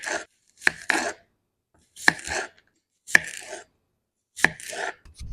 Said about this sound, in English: We chopped up 2 cucumbers.